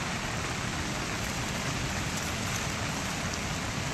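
Steady heavy rain falls outdoors in the wild, a dense, constant hiss of drops close to the microphone with no pauses and no voices.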